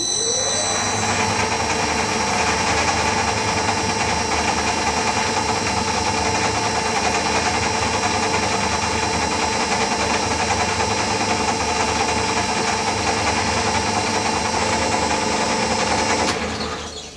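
A lathe turns a lap at low speed while lapping a part for a scratch-built model aircraft engine, a steady close motor hum and whine with faint tonal drone, running evenly and alone until it winds down at the end.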